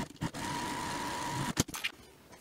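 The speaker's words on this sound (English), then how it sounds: "we're just going to top stitch one long edge with 1/8 of an inch seam allowance" Sewing machine top stitching one long fabric edge at a 1/8 inch seam allowance, making a steady fast whirring hum for about a second before stopping, followed by brief handling clicks.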